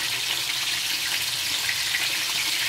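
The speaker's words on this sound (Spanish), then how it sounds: "vamos a poner a freír, ya el aceite está caliente, y vamos a aprovechar para dorar las papitas" Potatoes frying in hot oil, a steady, close sizzling hiss that holds even from start to finish with no voices.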